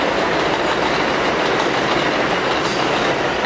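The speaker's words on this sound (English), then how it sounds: "That's the 4 train." A New York City 4 subway train in the Bronx roars past close by, a steady loud rumble of wheels on rails with faint clatter, filling the whole moment without a break.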